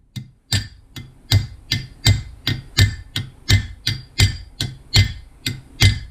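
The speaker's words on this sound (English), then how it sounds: "So the only thing I was doing was I was taking this over to the anvil. Here's my hammer." Metal brake fingers are struck with a hammer on an anvil, about a dozen sharp ringing blows in a steady, even rhythm, close and loud with brief pauses between hits.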